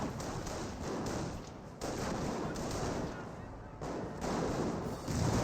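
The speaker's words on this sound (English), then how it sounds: "You have a relatively rare mortar here, firing away." Mortar firing away in the Company of Heroes 1 war game amid a steady bed of battle gunfire, with bursts of shots and dull thumps continuing throughout at moderate loudness.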